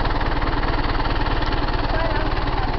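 A motorcycle engine running close and loud with a steady, even throb, a continuous mechanical drone that holds constant without a clear rise in revs.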